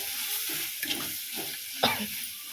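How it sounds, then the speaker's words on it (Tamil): Chicken fry stirred in a hot pan with a little pepper powder: a steady oily sizzle with soft scraping strokes of a spatula and a sharper clack near the end, close and with no voices. "கொஞ்சமாக சேர்த்து நல்லா பரட்டி விட்டுட்டு"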